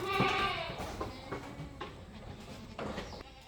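Newborn goat kids bleating in an observation pen at a goat farm, a loud close bleat at the start followed by fainter bleats amid stall and movement noise.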